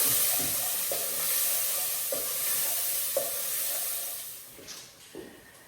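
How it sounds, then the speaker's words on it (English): Chopped white onion hisses and sizzles in a hot pan while being stirred, bright continuous frying noise punctuated by regular scraping stir strokes, close and fairly loud, fading slightly toward the end with no voices. "we're just going to pop that into our pan, which has been heating up. Just give those a bit of a stir around."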